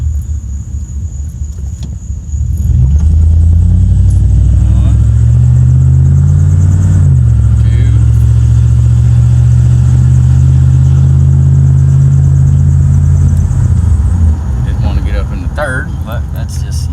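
A car engine in town traffic roars loud and close, its pitch climbing as it pulls through the gears, then holding a steady heavy rumble before easing off.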